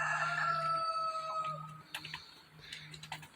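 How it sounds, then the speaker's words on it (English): Rooster crowing nearby in a backyard flock, one long drawn-out call at the start followed by softer clucks and scattered clicks from other birds. "One of the a-hole roosters."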